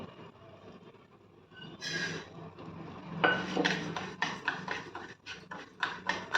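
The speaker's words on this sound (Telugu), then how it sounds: "మెంతులు ఉన్నాయి కదండి, అవి వేపించుకుందాం కొంచెం మంచిగా." Fenugreek and mustard seeds dry-roasting in a pan for gongura pickle, with clinks and rattles of seeds and a utensil against the metal, growing busier and sharper partway through.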